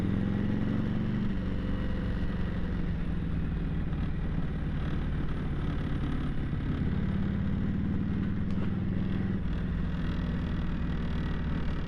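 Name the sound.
1966 Harley-Davidson Electra Glide Shovelhead motorcycle riding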